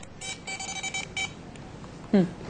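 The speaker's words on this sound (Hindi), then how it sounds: "ये अभी कोई बीप हुई है, एक बार फिर से सुनाइए।" An EMF ghost meter emits electronic beeps, several short tones in a quick cluster followed after a pause by one brief higher chirp, close and fairly loud with background voices low.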